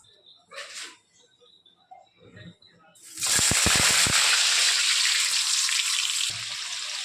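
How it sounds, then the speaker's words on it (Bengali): Potatoes drop into hot oil in a wok with a few sharp pops, then a loud, steady sizzle runs close up and eases slightly near the end; someone speaks briefly before the frying starts. "তেলটা আমার গরম হয়ে গেছে, এখন আমি আলুটা আগে ভেজে নেব।"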